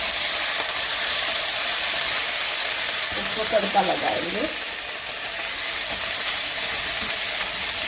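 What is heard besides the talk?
garlic, ginger paste and red chili frying in tadka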